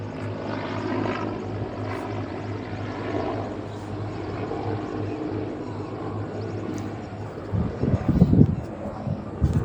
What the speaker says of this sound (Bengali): তিনটে হেলিকপ্টার সে যাচ্ছে